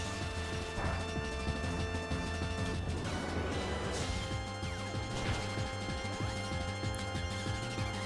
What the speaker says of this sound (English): it opens up with its signature move, Fusion Bolt